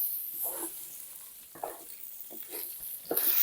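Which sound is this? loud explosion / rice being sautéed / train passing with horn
rice being sautéed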